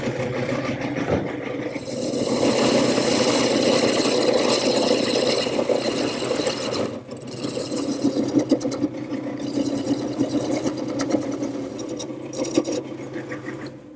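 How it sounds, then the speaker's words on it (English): A gouge scrapes along the outside and bottom of a spinning wooden bowl on a lathe, a sustained rough rubbing hiss over the motor's hum, briefly breaking off midway before resuming. "now I'll smooth up the outside and smooth up the bottom using the same gouge"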